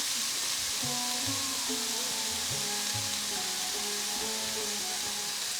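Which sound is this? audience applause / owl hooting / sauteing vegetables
sauteing vegetables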